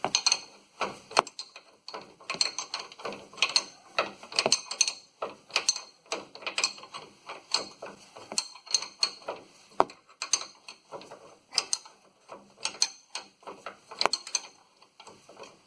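Ratchet wrench backing out a suspension bolt on the upper control arm of a 2008 Ford F-150, a steady run of close, sharp clicking bursts in uneven spurts with brief pauses, no talking.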